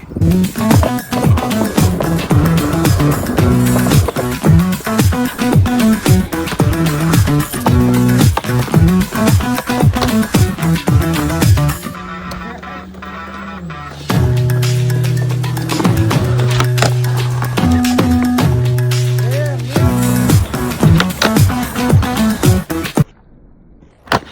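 A skateboard rides on Bones X-Formula X97 54 mm wheels, with loud close rolling rumble, repeated clacks and bumps over pavement, a few brief pauses and smoother stretches, and no talking.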